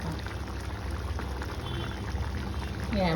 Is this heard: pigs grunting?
no